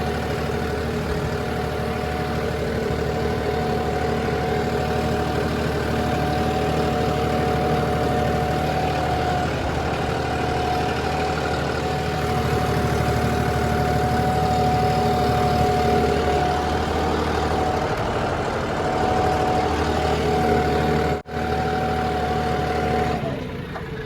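Modified tractor diesel engine running steadily at a held speed for the whole stretch, a loud, continuous close-up drone with a strong low rumble and a brief dropout near the end, no voices.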